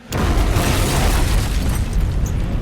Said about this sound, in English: you hear from behind you an explosion